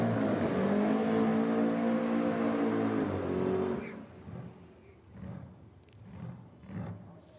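Drag racing cars roar loudly at a championship event, a sustained engine howl for several seconds that cuts off abruptly, then distant revving pulses and crowd-like rumble follow.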